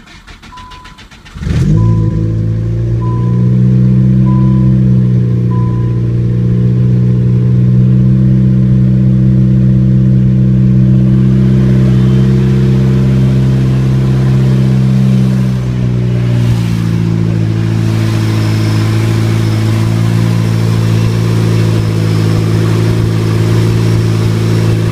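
A built turbocharged Nissan Sentra engine cranks and catches after a short quiet start, then settles into a loud, steady idle with a deep, rumbling hum that shifts slightly in pitch midway and keeps running close by.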